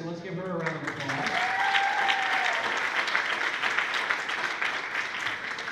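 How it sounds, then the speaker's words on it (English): An audience at a high school event breaks into sustained applause, a dense clapping roar that swells and holds, with some crowd noise mixed in. "let's give her a round of applause"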